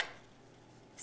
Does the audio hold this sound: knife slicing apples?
yes